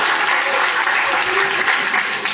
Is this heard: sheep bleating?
no